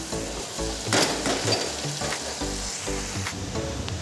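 Egg masala with chopped onion frying in a pan, a steady sizzle with stirring scrapes and a few soft utensil knocks against the pan.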